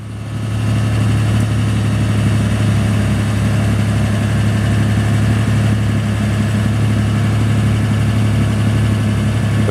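A continuous mechanical hum, likely an air pump or compressor, runs close and steady while a 1947 Chevrolet Fleetline sedan is raised on adjustable suspension, with a strong low drone and no voices.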